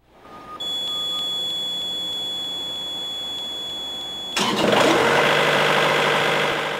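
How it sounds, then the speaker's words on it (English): A Carrier refrigeration unit sounds a steady high-pitched pre-start buzzer for about four seconds, then the engine cranks and catches with a loud, broadband rumble that keeps running to the end. "a 5-second buzzer will sound just before the engine cranks and the unit starts up automatically"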